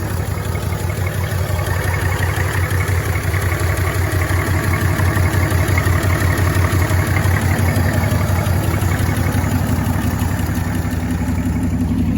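An old 1965 Chevrolet C10 short-bed pickup truck engine idling steadily up close, a smooth, even low rumble with a constant rhythmic chug throughout.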